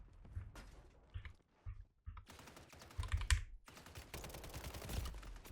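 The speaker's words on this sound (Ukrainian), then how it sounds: "Стріляють спереді, там де ти, до речі." Rapid bursts of Call of Duty: Warzone gunfire crackle in short volleys with gaps between, sounding close and punchy, alongside faint clicking.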